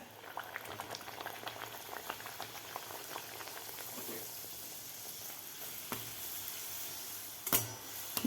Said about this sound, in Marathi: तर दुसरीसुद्धा लगेचच आपण तळायला घेऊया